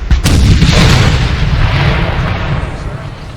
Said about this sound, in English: the sound effects with these guns are just exceptional